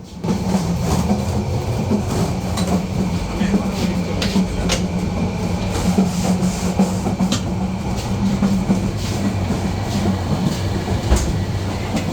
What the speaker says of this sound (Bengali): আমরা যাচ্ছি ট্রেনের নন এসি চেয়ার কোচগুলো দিয়ে